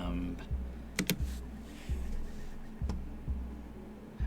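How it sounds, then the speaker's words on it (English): Someone types on a computer keyboard, a scattered run of light key clicks with a few sharper taps, close by, over a low steady hum and faint background voice. "You're going to hear some typing, because I'm going to type in how to switch to the lamb."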